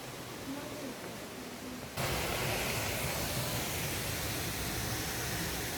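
Düden Waterfall in Antalya, Türkiye, a steady broadband roar of falling water that grows louder and denser partway through, continuous and close, with no voices.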